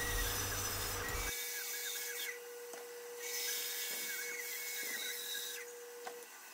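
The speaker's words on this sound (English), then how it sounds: "I'll just take it over to the bandsaw and turn it to an approximate circle." A bandsaw cuts a wood blank into a rough circle for a woodturned ogee platter, giving a steady whine with a rasping cutting noise that swells and eases in several passes.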